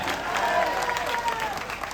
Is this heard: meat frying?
no